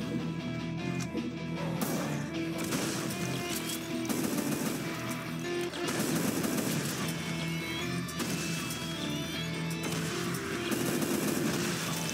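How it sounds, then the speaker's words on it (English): Weapon fire in the Brutal Doom video game, heard as dense, continuous rapid blasts and crashes over a loud game soundtrack, with no pauses across the whole stretch. "this is another one of the new Brutal Doom weapons, which is the railgun"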